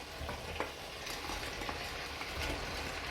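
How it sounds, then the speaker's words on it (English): Frozen broccoli and cauliflower added to a pan for a vegan curry sauce, giving a steady soft sizzle with faint scattered clicks and stirring sounds, with no voices. "I add my broccoli and my cauliflower to it"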